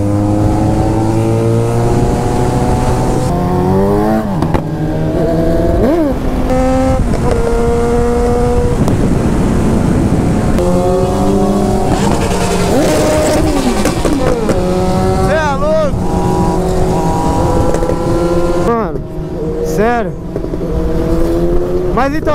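A motorcycle engine on a motovlog ride, loud and close throughout, its pitch climbing and dropping with repeated revs and gear changes, with the rider's voice occasionally over the engine.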